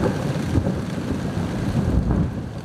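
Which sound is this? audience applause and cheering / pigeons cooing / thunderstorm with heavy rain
thunderstorm with heavy rain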